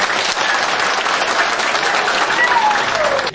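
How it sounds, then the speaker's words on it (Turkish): At a village association's general assembly, the crowd gives enthusiastic, steady applause to the newly elected board, loud and continuous with faint voices underneath. "Sizlerden yeni yönetim kurullarını böyle coşkulu bir alkışla alkışlamanızı rica ediyorum."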